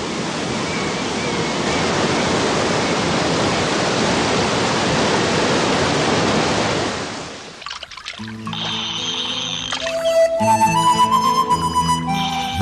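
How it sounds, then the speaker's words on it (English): Waterfall at Brooks Falls, Katmai National Park: a loud, steady roar of rushing water for several seconds, cutting off abruptly and giving way to a music score. "Brooks Falls is a wonderful spectacle"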